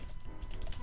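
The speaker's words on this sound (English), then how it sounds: "let's just kind of start typing things out in here" Someone types on a computer keyboard into a word-processing document. The keys give off quiet, quick, uneven clicks, close by and with no voices.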